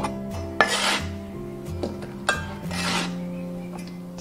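A knife cuts pineapple into small pieces on a board, several rasping, scraping strokes with knocks of the blade, close and unhurried, over a steady low kitchen hum.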